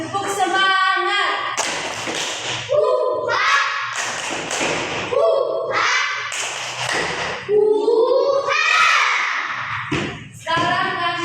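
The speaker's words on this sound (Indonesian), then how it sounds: "Tepuk semangat." A primary school class performs a rhythmic spirit clap, sharp thumping hand claps in short patterned bursts, interleaved with children loudly chanting in unison, close and lively.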